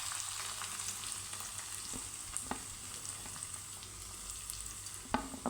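Vegetables for fried rice — ginger, capsicum, cabbage and carrot — stir-fried in a pan, with a steady soft sizzle and occasional clinks of the spatula, close by and alone.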